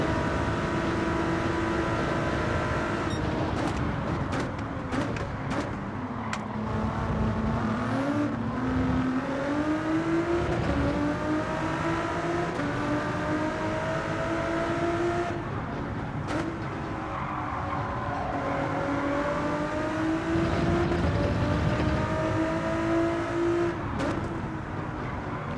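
Toyota Supra race cars in Gran Turismo 7, engines droning steadily and rising in pitch through gear changes, with occasional tire squeal across a long continuous run.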